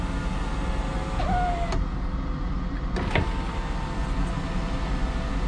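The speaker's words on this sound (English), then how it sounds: "electric cab window," The electric cab window of a Mercedes-Benz eCitaro bus, a brief whirring motor slide heard faintly over a steady low cabin hum, followed by a couple of soft clicks and knocks.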